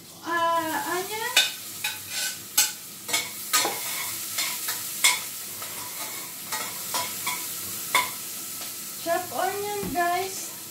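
Garlic and chopped onion fry in a pan for vegetarian pasta with mushrooms, a soft continuous sizzle punctuated by repeated clattering stirs and scrapes, while a voice talks intermittently over it.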